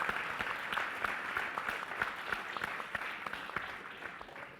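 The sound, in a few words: audience applause for panelists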